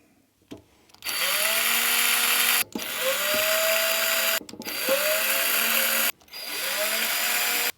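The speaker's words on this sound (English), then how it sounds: "I'm just going to drill some pilot holes with this" A power drill with a 3 mm bit drilling pilot holes whirs in four bursts of about one to two seconds each, with brief pauses between them. It is close and steady, with no talking.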